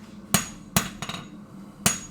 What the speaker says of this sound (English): keep hammering and with the hope that it will eventually straighten itself out